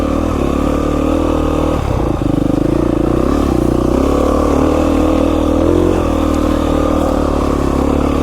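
Beta 500 RR-S dirt bike ridden on singletrack toward a mountain lookout in Idaho, its single-cylinder engine droning and revving loudly up close throughout, with clattering and scraping from the rough trail.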